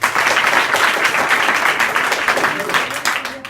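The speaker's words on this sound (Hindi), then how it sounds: "वेरी गुड, ताली बजाते" Schoolchildren at a school in Azamgarh clap together, a dense, steady spatter of many hands held at an even level throughout, with a few voices mixed in.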